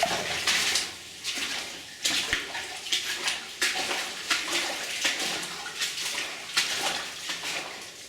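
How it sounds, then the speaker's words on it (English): Water flows and falls inside a flooded, partly collapsed underground mine, a loud, close, continuous rush with splashing surges and no voices. "there's more water falling back here. I can hear it."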